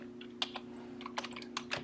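Quick light keystrokes on a computer keyboard while entering text into an Excel spreadsheet cell, a short irregular burst of clicks heard up close and quiet, with no talking.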